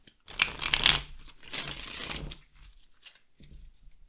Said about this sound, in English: They're meant to riffle, shuffle super well.